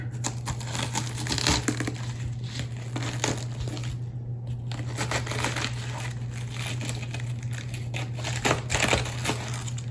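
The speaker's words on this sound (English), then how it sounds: "you want to cut that whole piece out because it'll make your cabbage bitter" A knife cuts and digs the bitter core out of a head of cabbage, giving crunchy, crackling cuts close by over a steady low hum, with no one speaking.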